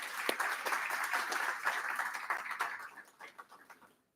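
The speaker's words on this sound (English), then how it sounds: "So a round of applause for them" Applause breaks out at a school board of education meeting, a dense round of many hands clapping that holds steady for a few seconds and then thins into scattered claps before fading out.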